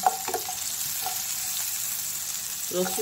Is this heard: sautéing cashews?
yes